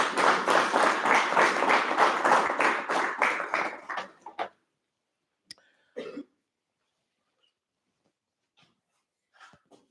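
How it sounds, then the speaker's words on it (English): A burst of clapping from a crowd of men at a father-and-son camp session, dense and steady for about four seconds, then fading out, followed by a few scattered thumps and coughs in near silence. "Give yourselves a clap."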